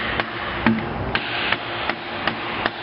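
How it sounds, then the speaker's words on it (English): A rubber hammer lightly taps an ATV snorkel hose on a 2003–2013 Honda Rincon 650/680, striking seven soft, evenly spaced blows about every half second against a steady background hum. "What you can get is a rubber hammer, and you can take it and very lightly"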